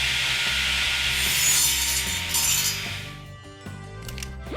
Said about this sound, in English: Let's try sawing.